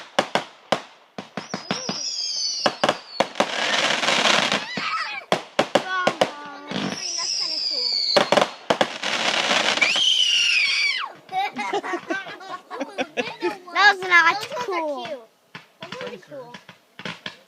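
Memorial Day 2013 fireworks go off as a string of sharp crackling pops, whistling streaks and dense bursts of explosions, while children and adults talk and exclaim nearby.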